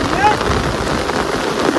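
Heavy monsoon rain pours down near a flooded creek in a dense, constant hiss, loud and close, with a brief faint tone near the start.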